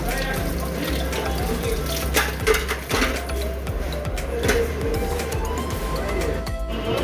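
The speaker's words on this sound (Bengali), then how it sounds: "এখন এখানে হাত মুখ ধুব আর কি।" Water runs steadily from a tap while someone washes their hands and face, a continuous splashing hiss with small bumps of movement and no clear speech.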